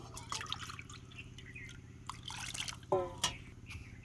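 Water poured into a pot for gur pithe sugar syrup, measured by the bowl at double the sugar, trickles and drips steadily through the clip with a louder splash near the end, over a low background hum.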